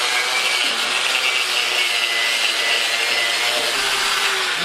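An angle grinder works steadily against the heavily rusted frame of a 2002 Jeep Wrangler, giving a loud, continuous abrasive roar that holds without a break for the whole stretch, with no talking.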